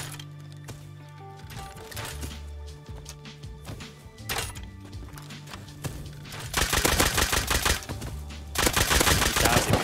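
Rapid bursts of gunfire in the video game Rust, repeated volleys and single loud shots that grow denser and louder toward the end, with a background music drone underneath.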